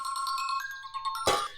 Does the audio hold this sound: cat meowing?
no